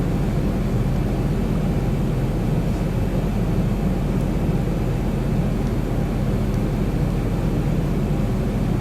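Steady, unbroken airliner engine drone in the X-Plane 11 flight simulator during a landing approach, a continuous low roar with no talk over it.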